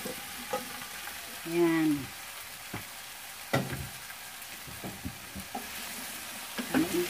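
Eggplant frying in a pan, with a soft sizzle under scattered stirring clanks and scrapes, plus brief bits of speech and a short tonal sound early on.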